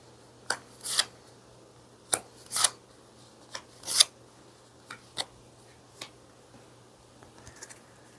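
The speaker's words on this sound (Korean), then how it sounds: "진지하게 카드를 뽑도록 할게요." Tarot cards are drawn and shuffled up close: about a dozen crisp snaps and brief papery slides come in irregular bursts over quiet background, with no talking.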